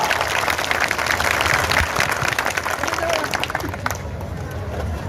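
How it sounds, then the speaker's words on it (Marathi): A large crowd at an outdoor rally march in Ambajogai claps loudly and continuously, a dense roar of applause that eases slightly near the end. "एकदा जोरदार टाळ्या वाजवून आपण अभिनंदन करा"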